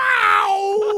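A voice imitating a cartoonish pained yell, a single loud, drawn-out "yow" that starts high and slides downward, alone and close.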